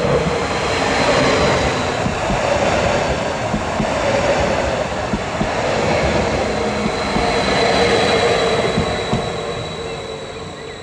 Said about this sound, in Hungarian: és érkezik a páratlan számú vonat